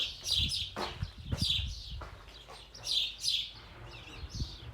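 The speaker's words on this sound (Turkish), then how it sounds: "Kuş sesleriyle uyanıyoruz. Sertiler, kırlangıçlar." Bright, high chirps and twitters of swallows building nests in the mountains come in repeated bursts, several birds calling close by over a low, rumbling background.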